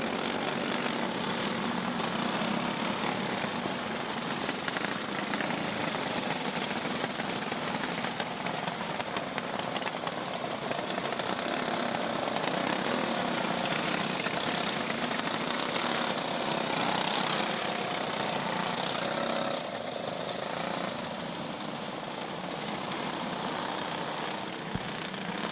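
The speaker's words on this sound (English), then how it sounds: "Another set of Junior 2 karts entering the track here for their second heat race" Junior 2 racing karts rev and idle as they roll onto a karting speedway for a heat race, a dense buzzing engine drone from several karts that holds steady and loud, easing slightly near the end.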